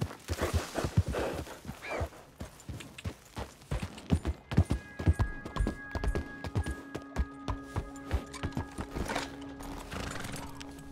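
Horse hooves clip-clop in a video game, a run of sharp, fairly regular hoofbeats up close, with a short whinny-like tone in the middle and brief sounds over the steps.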